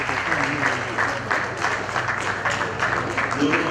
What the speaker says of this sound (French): merci pour vos applaudissements, quoique maigres.